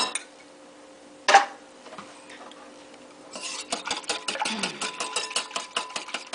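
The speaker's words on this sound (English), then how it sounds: "I put a little vinegar in a cup of milk, and it'll work just fine. Whisk that together." Vinegar and milk whisked together in a cup, a rapid run of light, rhythmic clicking taps of the whisk against the sides, preceded by a single sharp knock.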